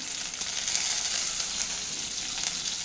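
Dry red chillies frying in hot oil for a dal tadka, giving a bright, steady, close sizzle and crackle that carries on evenly throughout.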